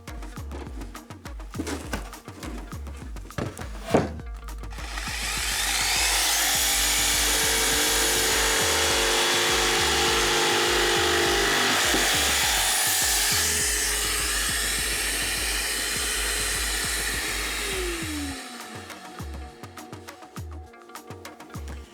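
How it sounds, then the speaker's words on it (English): A Festool ISC 240 insulation cutter slices through PIR insulation board, starting after a few clicks into a sustained loud buzzing saw drone that holds steady, then winds down and stops. "Double tap the switch to start the cutting action."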